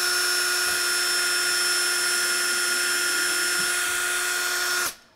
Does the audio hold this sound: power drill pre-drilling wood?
yes